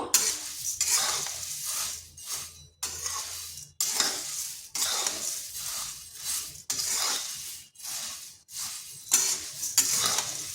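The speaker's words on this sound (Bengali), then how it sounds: "মুড়িগুলো একটু নেড়ে নেব।" Softened puffed rice is stirred in a hot pan with repeated dry, rustling scrapes in a steady rhythm, each stroke followed by a short pause.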